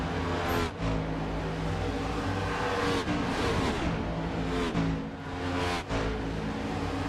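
Race cars roar around an oval racetrack during a short-track stock car race, engines droning loud and continuous with rising and falling pitch as cars pass close by.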